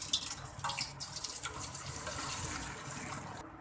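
Water pours and drains through a strainer from cooked rice for vegetable fried rice, a steady close splashing rush without talk.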